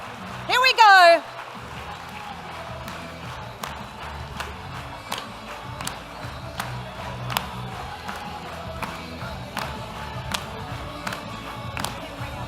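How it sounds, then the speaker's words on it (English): An audience at an education awards presentation breakfast lets out one short, loud cheer, then scattered claps and taps follow across the room. "Give them a big cheer"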